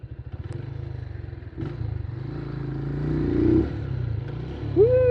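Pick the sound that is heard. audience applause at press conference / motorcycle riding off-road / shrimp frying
motorcycle riding off-road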